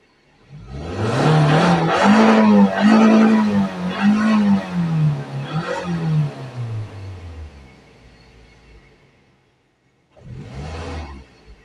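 A Toyota Corolla Altis engine with a fuel pump fault is started and revved in a garage. A loud, wavering rev holds for a few seconds and then dies down to quiet. A second, shorter run follows, up close.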